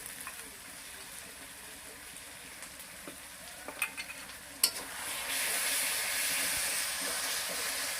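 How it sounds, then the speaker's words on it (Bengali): Cumin paste and spices frying with garlic and onion in a pan for chicken curry, a steady soft sizzle with occasional stirring clinks and scrapes, the hiss growing louder toward the end. "রসুন পেঁয়াজের সাথে ভাজা হয়েছে"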